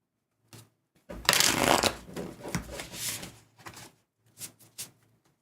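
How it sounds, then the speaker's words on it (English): Tarot cards are shuffled by hand in quick bursts of papery riffling, close and crisp. A long central burst is followed by a few shorter shuffles separated by brief pauses. "One more shuffle."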